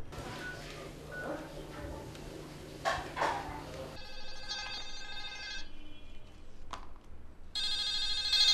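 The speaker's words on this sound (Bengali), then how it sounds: "আব্বা জান ওই গাড়িওয়ালা ফোন করছে" A mobile phone ringtone sounds in a room, first under background noise, then clearer as a repeating electronic melody that grows louder toward the end.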